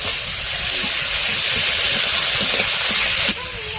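Oil and green chilies sizzle in a cooking pot on a village kitchen fire, giving a loud, continuous frying hiss that drops off abruptly near the end.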